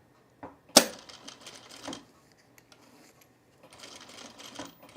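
A home sewing machine fitted with a zipper foot stitches pants, starting with a sharp click and then running in two short bursts of rapid mechanical stitching separated by a brief pause, close and moderately loud.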